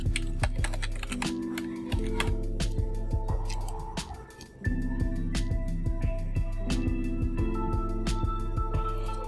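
A password being entered on a computer keyboard, with rapid, close key clicks in an uneven rhythm that run the whole time and pause briefly once.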